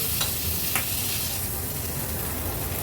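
Paneer-stuffed capsicums frying in a pan give a steady broadband sizzle, broken by a couple of brief scraping stirs near the start, close and constant throughout.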